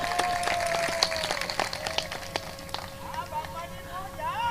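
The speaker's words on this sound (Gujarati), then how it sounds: "આ વધાવવાનું તાળીઓથી વધાવો." An audience at a Gujarati dayro comedy and folk program by a performer in 2025 applauds with a fast, scattered patter of claps over a sustained musical tone, with a voice rising near the end.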